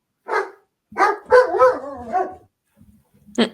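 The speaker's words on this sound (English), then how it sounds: "As they bark in the background" Dogs barking nearby in a home: a short burst of several loud yaps and woofs in quick succession, a pause, then one more sharp bark, with no talk over them.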